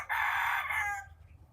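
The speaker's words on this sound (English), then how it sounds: "Yeah, we can hear you, Mr. Rooster." A rooster crows once, loud and close, a sustained strained call that fades out after about a second, with no talk over it.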